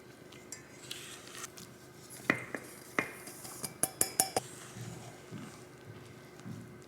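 A utensil stirs sourdough pumpkin muffin batter in a bowl, giving a run of sharp clinks and taps that cluster densely for a few seconds before thinning to soft scrapes, close and fairly quiet.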